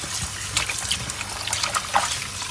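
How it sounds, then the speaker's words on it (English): Hot and cold tap water running in a kitchen while fish is washed, a steady close trickle and splash with irregular spatters, no voices. "Tap water, hot and cold mix."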